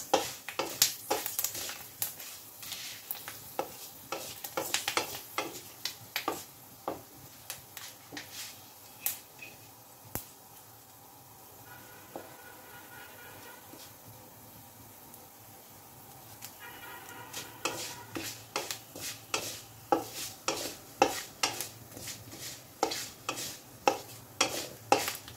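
A kadhi mixture is stirred and fried in a pan, with steady soft sizzling under repeated sharp scraping and clattering strokes of a spoon. The strokes come quickly at the start and end and thin out in the middle.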